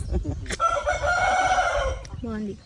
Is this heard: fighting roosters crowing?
yes